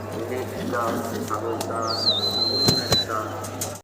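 German Beauty Homer pigeons coo softly at a farm amid background chatter and a faint whistle, with low murmuring calls running under a man's nearby speech.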